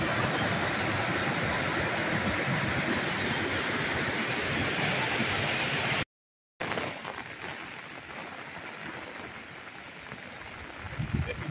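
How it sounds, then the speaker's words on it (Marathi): A rushing flood-swollen waterfall roars loud and steady near a flooded village house in the Konkan, then after a brief cut the broad water noise continues more faintly. "धबधबो धबधबो"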